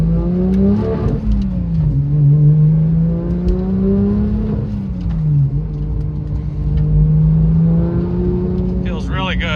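Porsche GT3 fitted with an aftermarket exhaust on a test drive, its engine droning steadily from inside the cabin with rising and falling revs through gear changes, loud and continuous, with a brief sharp burst near the end.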